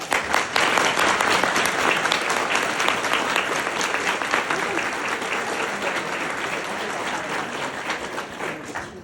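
Audience applause at an NAACP MLK Freedom Breakfast, a full room clapping steadily for honored guests, strong at the start and gradually fading over several seconds, with no speech over it.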